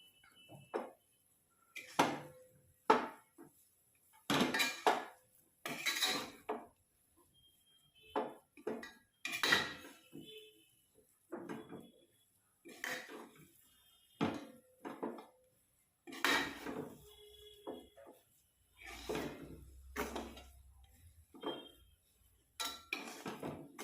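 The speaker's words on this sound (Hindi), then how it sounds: "अब मसाला डालकर भी हम थोड़ी देर अच्छे से" A metal spoon stirs spice masala frying in a pan, making a string of scraping clinks and knocks against the metal that come in irregular bursts with short quiet gaps between them, close and alone.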